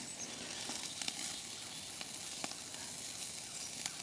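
Food sears over charcoal in a Firebox stove. It gives a faint, steady sizzle and hiss, with a few soft crackles and pops scattered through.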